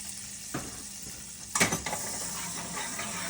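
Two tablespoons of butter going into a pan for a roux, giving a faint, soft sizzle with a couple of brief clinks and scrapes of a utensil.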